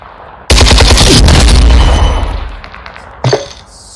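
A loud sustained burst of submachine gun fire in Warzone 2, rapid automatic shots blurring into a continuous roar for about two seconds, fading out, then a short secondary shot or impact near the end.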